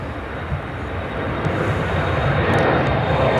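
An Airbus A330-200 arriving at Chicago O'Hare from Rome, its engines a steady, loud broadband roar that slowly builds as it taxis near, with faint voices in the background.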